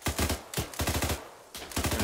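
Bursts of gunfire from ArmA 3, loud close shots in quick clusters with brief pauses between volleys, no talking over them.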